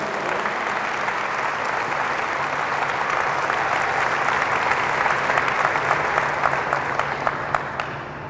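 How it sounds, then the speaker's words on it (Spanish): A church congregation claps loudly and steadily, a dense wash of applause that holds through the stretch and tapers off slightly at the very end. "Dale fuerte aplauso a la palabra de Dios."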